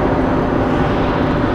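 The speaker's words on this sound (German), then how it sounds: "Jetzt nimmt er wieder Gas an" A Mercedes taxi engine picks up throttle again, a steady broadband drone of engine and road noise held at an even, fairly loud level with no distinct revving peaks.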